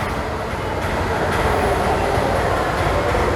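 Train rumbling steadily at Kanyakumari railway station on the Puducherry Express, a loud, continuous broadband roar with faint rhythmic wheel clatter and no speech.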